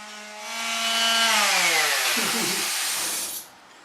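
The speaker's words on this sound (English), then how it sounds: "I'm going to go out and continue sanding those plywood pieces" A power sander spins up with a rising whine, runs loud and harsh on plywood for a couple of seconds during boat refit work, then shuts off and winds down.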